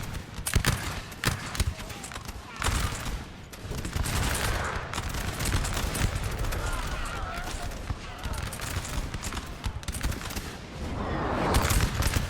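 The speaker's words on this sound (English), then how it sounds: "French starting to die from the return volleys from this Russian grenadier line." Musket volleys crackle from Russian and French grenadier lines in a Napoleon: Total War line battle, a dense continuous din of overlapping shots with sharper bursts throughout, no pauses.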